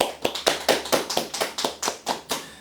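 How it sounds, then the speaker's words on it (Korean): Roughly a dozen sharp hand claps in a steady, quick rhythm, close and fairly quiet, with no talking. "박수 치고 싶습니다"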